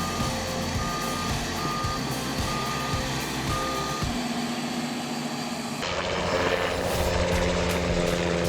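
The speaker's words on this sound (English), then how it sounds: "This is a top-tier display of helicopter logging at its finest." A logging helicopter lifts massive logs, its rotor and engine drone steady and loud throughout, mixed with a truck engine and a regular reversing beep pulsing through the first half.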